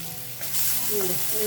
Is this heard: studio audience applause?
no